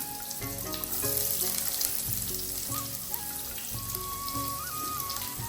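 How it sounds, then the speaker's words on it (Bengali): Chopped onion and garlic frying in hot oil as a tempering for thin red lentil dal, a dense continuous sizzle and crackle close by over a low hum, with no talking. "এখানে অল্প কিছু পেঁয়াজ কুচি দিয়ে দিচ্ছি এখানে রসুন কুচি"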